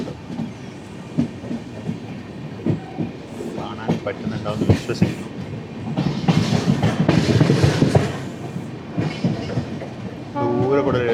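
A distant LHB train passes on the Wadi–Hyderabad line, heard from inside a moving express coach as a low rumble with rhythmic clatter, while someone talks over it.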